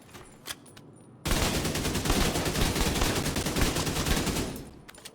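Rapid automatic gunfire from a video game loot-shooter damage build, a loud sustained burst of shots lasting several seconds after a brief quiet start, with no talking.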